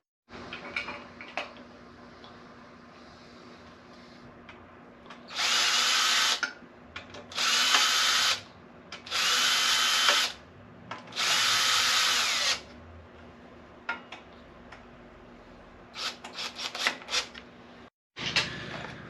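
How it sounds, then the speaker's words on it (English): Power tool drives greased bolts on a Surly Karate Monkey bike build: four loud whirring bursts of a couple of seconds each, separated by pauses filled with quiet handling clatter, ending with a few short ratcheting clicks. "I've already greased these bolts, so they should go in nice and smoothly and provide us good, accurate torque"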